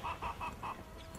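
A rooster clucks four times in quick succession, fairly faint and somewhat distant, over a low background rumble, on a farm on Martha's Vineyard.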